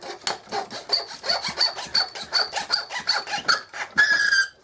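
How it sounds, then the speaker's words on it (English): A saw cuts through a popsicle stick with a quick run of about fourteen even, raspy back-and-forth strokes, close up, with a squeak near the end and no talking. "I'm going to go ahead and cut another one real quick here."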